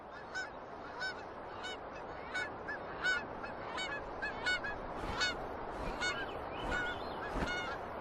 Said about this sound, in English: As many as 140 million seabirds flock to Alaska's coast for the summer.